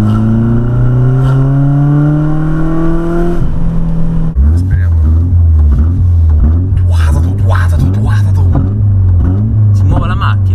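A BMW drift car engine revs up in rising sweeps, then settles into a loud, low idle rumble and pulls away on a private lot while someone talks over it.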